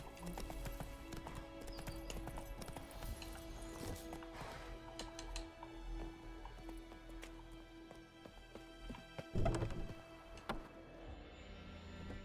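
Roach the horse gallops in The Witcher video game, a quick run of hoofbeats under sustained background music, with a louder burst near the end.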